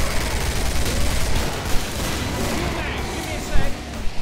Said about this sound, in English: The glories of firing down a hallway with a gun.